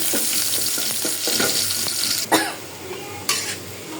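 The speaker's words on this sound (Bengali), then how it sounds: "এখানে আমি চিংড়ি মাছে একটু পানি দিয়ে দিলাম মশলাও দিয়ে দিলাম" Shrimp cooking in a pot after water and spices are added gives a steady sizzle with a few sharp stirring scrapes and clinks standing out over the bubbling.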